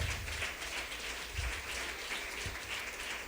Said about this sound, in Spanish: Alguien puede dar un aplauso al Señor.